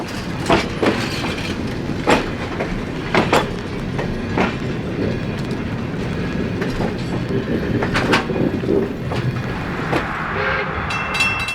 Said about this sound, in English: The train crosses Main Street on the west side of Owosso.